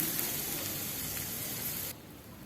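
Onions and green chillies sautéing in a pan for a radish greens stir-fry give off a steady close sizzle and hiss, which drops abruptly to a quieter simmer near the end.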